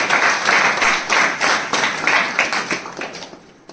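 An audience applauds three mothers receiving an ashram organisation's award at a public ceremony, with dense, steady clapping that fades toward the end.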